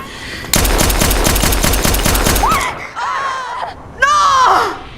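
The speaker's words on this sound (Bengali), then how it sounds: "তো শিনজো অ্যানিকে গুলি করবে" Dramatic movie-scene gunfire: a loud, rapid machine-gun burst of evenly spaced shots for about two seconds, followed by strained groans and cries in the aftermath.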